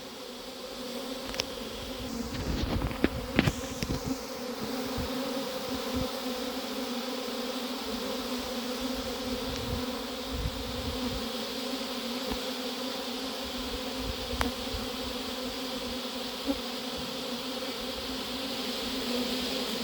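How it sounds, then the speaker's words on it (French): Steady, droning buzz of a honeybee swarm in a cardboard box close by, continuous for the whole stretch with a few brief louder bumps and rustles. "Il y a encore beaucoup d'abeilles dans le carton."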